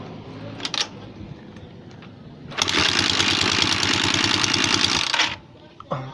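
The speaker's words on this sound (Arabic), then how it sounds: "هقفل الغطا ده عشان نسمع صوت الموتور كويس" A motorcycle engine revving loudly and steadily for a few seconds with a rapid mechanical pulse, then dropping back, with brief knocks before and after.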